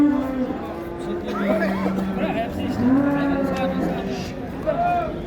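Cattle low and moo repeatedly at the Şarkışla livestock market in Sivas, several overlapping calls rising and falling close by amid a busy crowd, with people talking throughout.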